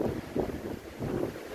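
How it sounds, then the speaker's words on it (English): Breezy wind gusting across the deck of the NCL Encore cruise ship, buffeting the microphone in soft, uneven surges for a moment at low volume, with no talking. "Pardon the wind."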